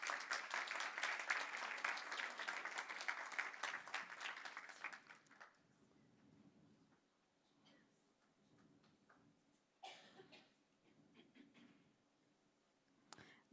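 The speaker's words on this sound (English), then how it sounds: "Round of applause, please, everyone." An audience breaks into applause for about five seconds, loud and dense, then it dies away to a quiet room with a few faint scattered claps and light movement.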